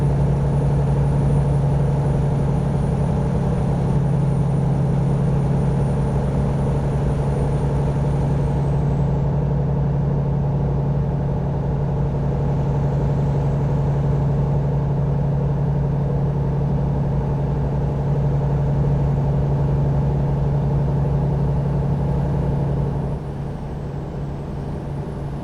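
Volvo truck cruising down the highway in American Truck Simulator: a steady, droning diesel engine hum with a strong low tone holds for over twenty seconds, dropping slightly quieter near the end, with no talking.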